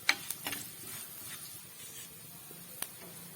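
Crushed ginger and garlic sizzle faintly in hot oil in a pan for a fish curry, giving a quiet steady hiss broken by a few sharp spatula taps and scrapes, close by with no talking.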